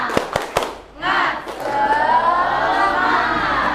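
A group in a teacher-training classroom session does a rhythmic spirit clap: three sharp, loud claps in quick succession, then the whole group shouts together in a sustained chant.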